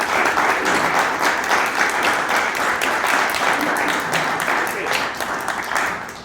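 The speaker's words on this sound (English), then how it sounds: "can I get a round of applause for Theresa?" A room of people applauding at a community association annual general meeting, a full, steady round of clapping that holds for several seconds before easing slightly at the end.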